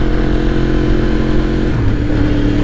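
A Yamaha R1M sportbike engine runs loud and close, a steady throaty drone whose pitch dips briefly near the end.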